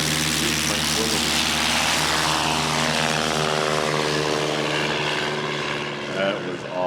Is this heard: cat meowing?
no